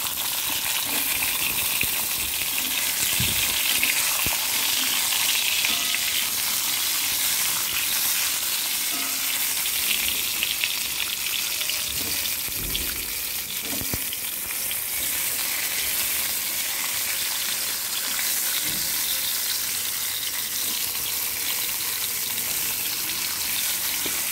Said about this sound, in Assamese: আমি এতিয়া পটলখিনি ভালকৈ ৰঙচুৱাকৈ ভাজি ল'ম।